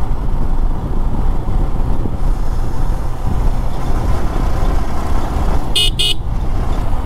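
A lorry cuts in just ahead of a motorbike on a rainy road, heavy continuous engine and road roar with wind buffeting, then two sharp horn blasts near the end.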